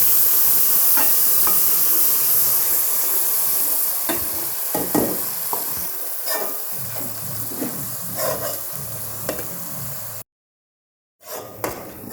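Onion paste sizzles and hisses steadily as it fries with garlic in a pan for a Hyderabadi stuffed eggplant dish. A spoon stirs and scrapes through it, and the sound cuts out briefly near the end.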